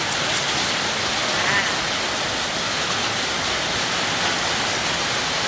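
Steady rain pours down around a parked Honda Forza 350 touring scooter, a dense, even hiss of drops filling the whole stretch without pause, loud and close.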